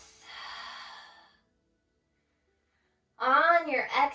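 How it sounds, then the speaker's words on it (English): A slow, deep breath during a beginner yoga sequence: a long, soft airy exhale, then a pause of near silence, followed by a voiced, sigh-like breath that ends the clip. "Big deep breaths"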